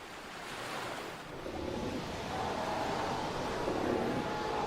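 Sea waves washing onto an African coastline, a steady rolling surf with a soft swell building midway, moderately quiet with some wind noise and no voices.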